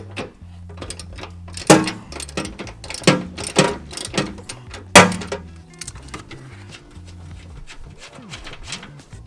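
Ratchet and socket work 16mm nuts on a Jeep JK bulkhead, with quick bursts of clicking pawl and metallic clacks that come in uneven runs, loud and close, then thin out into lighter clicks and taps.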